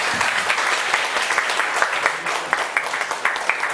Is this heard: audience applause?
yes